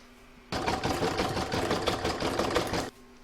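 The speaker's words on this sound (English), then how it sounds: "I'm now going to put that back in my machine and stitch round number 6," An embroidery machine sews zigzag stitching for an in-the-hoop reversible Christmas placemat in one steady, fast mechanical burst lasting about two and a half seconds, close and loud, with quiet before and after and no talking.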